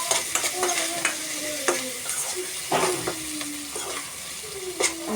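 Onions fry in a pan with a steady close sizzle, punctuated by repeated spoon scrapes and clinks as they are stirred, without talk.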